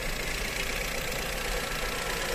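A car engine idles steadily with the hood open, giving a continuous low hum and faint rhythmic knock heard up close, with no voices.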